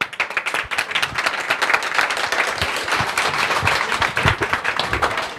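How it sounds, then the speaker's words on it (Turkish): Audience applause at an office award ceremony: a crowd clapping steadily and fairly loud, dense overlapping claps throughout with no talk. "Alkışlarla uğrayalım."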